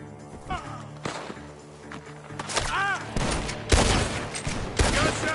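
Gunfire in a tense standoff, sharp cracks and bursts spread through the stretch, some loud and close, others softer, mixed with music-like tones and a brief voice.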